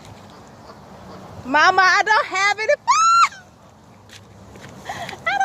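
Ducks or geese at Hoover botanical gardens in Birmingham, Alabama, give a burst of loud, close honks and quacks, then a few fainter calls, while people talk nearby.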